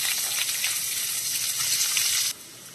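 Onions sizzling in hot oil with cumin seeds and dried red chillies, a steady bright hiss that cuts off near the end, with no talking.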